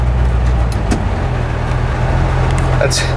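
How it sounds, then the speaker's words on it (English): A car engine fitted with a Holley 80457 carburetor idles low and loud nearby, a steady throbbing rumble with a faint voice over it. "But she's running good. I adjusted the idle a little bit so that it wouldn't be so low"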